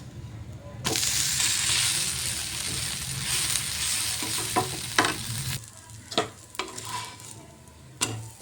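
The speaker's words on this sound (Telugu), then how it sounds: "మినప దోశని 2 సైడ్స్ కూడా మనం కాల్చుకోవాలి." Urad dal dosa roasting on a hot pan, a steady close sizzle for several seconds, then quieter frying with a few sharp scraping and tapping sounds of a spatula near the end.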